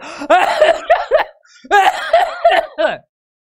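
A man lets out two bursts of rough, repeated coughing, loud and close, each burst a quick series of harsh hacks separated by a short pause.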